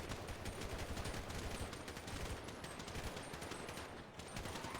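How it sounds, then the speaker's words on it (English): Rapid automatic gunfire rattles through a GTA V roleplay firefight on NoPixel 4.0, dense overlapping bursts sustained without a break, with no voices over it. "Yeah, they're shooting at Larry."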